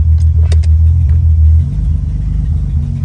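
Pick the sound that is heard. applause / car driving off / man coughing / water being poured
car driving off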